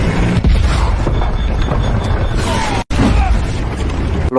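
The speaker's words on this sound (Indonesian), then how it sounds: "Sampai ketika ledakan sudah terdengar" Loud, dense explosive rumble and crashing from a war film scene with a tank under fire, sustained booming with a brief drop-out before the roar resumes.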